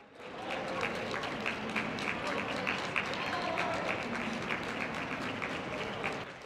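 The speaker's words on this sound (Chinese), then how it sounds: "日落记等紧嘅球迷即刻发出欢呼声" Hong Kong football fans waiting at the airport cheer and clap as the national team returns from the Asian Cup, a steady dense crowd roar with scattered claps throughout.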